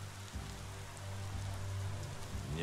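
Rain pouring down in the video game Biomutant, a dense steady hiss with low rumbling ambience underneath, continuous and fairly even throughout with no talking.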